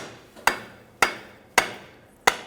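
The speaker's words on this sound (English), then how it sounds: "I'm going to hit it with a hammer." Four sharp metallic hammer blows on a pry bar, spaced roughly half a second apart, driving a front right CV axle out of a 2006-2014 Honda Ridgeline 3.5L V6; close, loud, with no talk.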